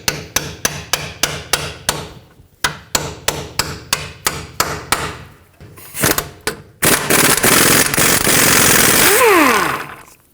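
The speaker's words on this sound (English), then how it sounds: "you're going to have to tap the socket on with a hammer" A hammer taps a 17mm socket onto a bolt during front wheel bearing work on a 2012-2017 Toyota Camry, giving a close, even series of sharp metallic blows, followed by faster heavier strikes and a sustained loud grinding noise.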